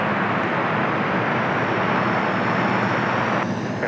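An airplane on a takeoff roll from runway 30 makes a steady, broad engine roar that holds at a constant level throughout.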